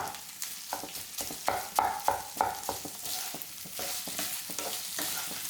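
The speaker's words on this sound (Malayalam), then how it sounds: "ഇപ്പം നമ്മുടെ ചിക്കൻ കണ്ടോ ചെറുതായിട്ടൊന്ന് ഫ്രൈ ആയിട്ട് വന്നിട്ടുണ്ട്." Chicken pieces frying and being stirred in a pan for a home lunch-box recipe, with steady close sizzling and repeated scraping stirs, the liquid cooked away, and no talking.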